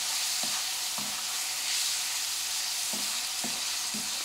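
Tater tot totchos with seasoning stirred through them fry in a pan, giving a steady faint sizzle broken by a few soft scraping strokes of a utensil.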